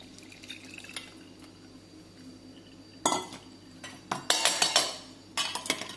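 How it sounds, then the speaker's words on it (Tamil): Onion tea strained into a tumbler: a few bright clinks and splashy pours of liquid in short bursts, close by, over quiet kitchen background without talk. "அந்த டம்ளர்லேயே வடிகட்டினா எவ்வளோ வருதுன்னு பாருங்கள்"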